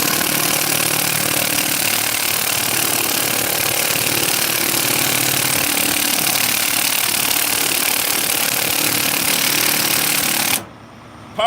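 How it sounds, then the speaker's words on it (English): A loud power tool roars steadily with a harsh, grinding buzz, then cuts off abruptly just before the end. "Power tool."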